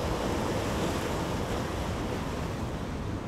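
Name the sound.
sea waves breaking on rocks at Eyemouth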